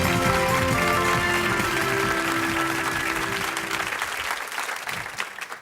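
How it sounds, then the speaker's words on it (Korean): A conference audience at a tech forum applauds to welcome a speaker. Music with sustained tones plays under the clapping at first, then fades, leaving scattered claps that thin out toward the end. "큰 박수로 맞아주시기 바랍니다."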